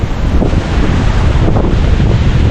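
Strong wind in a wind and rain storm roars against the microphone as a dense, constant rumble, loud and close with no other sounds standing out.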